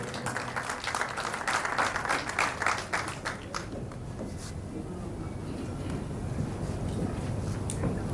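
A ceremonial audience applauds warmly for the ambassador of Nigeria, with clapping strong for about three seconds and then fading into rumbling, windy background noise.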